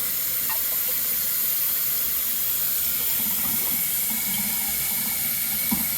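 Fresh water runs steadily from a tap at a plant, a constant close hiss and splash that fills the whole stretch at even loudness, with no voices over it.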